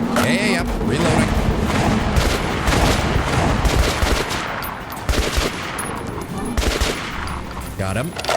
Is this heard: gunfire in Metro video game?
yes